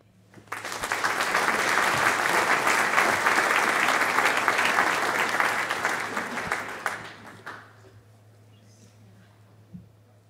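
Warm audience applause at an architecture awards ceremony after a keynote introduction, building quickly to a full, steady clapping that fades out near the end, followed by near silence and a faint isolated knock.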